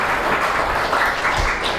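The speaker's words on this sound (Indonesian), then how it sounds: "Tepuk tangan untuk Bu Lena dan Pak Wabub" An audience at an Indonesian public discussion gives a burst of steady, dense applause, filling the room for a couple of seconds with no speech over it.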